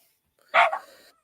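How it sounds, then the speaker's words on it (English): A single dog gives one loud, close bark that trails into a short yelping tail, alone with no talk over it. "Well, other than the dog barking, I am feeling okay."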